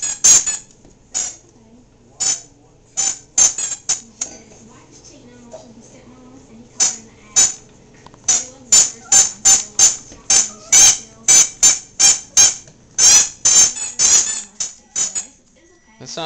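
A squeaky dog toy squeezed over and over, with sharp, loud squeaks in scattered single presses at first and then a quick, rhythmic run of squeaks toward the end; faint voices are present in the background.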